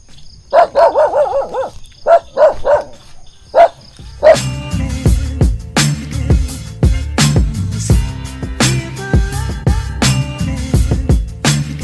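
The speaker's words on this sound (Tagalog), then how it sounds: "May aso ng parating." Dog barking as it comes closer on a quiet rural road near cabins in Magalang, Pampanga, a few sharp barks and yips followed by louder clattering bursts and rustling movement nearby.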